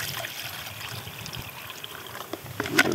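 Water poured into a pot on a small cheap camping stove at a backpacking campsite in the Grayson Highlands, a steady close trickle that swells into a louder splash near the end.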